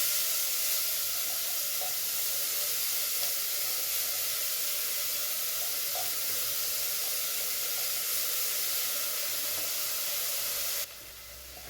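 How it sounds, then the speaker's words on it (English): Onions dropped into hot oil, a broad steady sizzle and hiss that carries on evenly for several seconds before easing slightly near the end, with no talking. "So our oil is hot. We add the onions."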